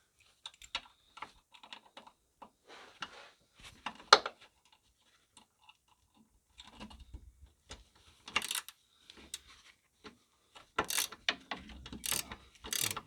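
A Torx bit turning a drop link bolt on a Ford C-Max rear anti-roll bar, heard as faint, scattered metallic ratcheting clicks in short irregular bursts.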